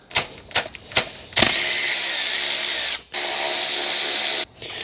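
A power tool runs bolts into a Toyota Altezza 3SGE engine during a timing belt install: a few quick ratcheting bursts, then two sustained whirring runs separated by a short pause, loud and close.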